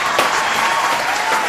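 Studio audience applauding on a Hindi comedy spoof of the Kaun Banega Crorepati game show, a steady wash of clapping that fills the whole moment at close range without a break.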